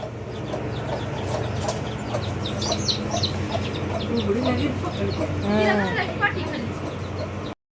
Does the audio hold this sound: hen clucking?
yes